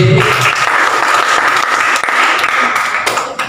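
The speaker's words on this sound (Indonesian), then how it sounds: "Tepuk tangan." A roomful of students at a school legal-awareness session applauds, with dense, steady clapping that goes on throughout and tapers slightly toward the end.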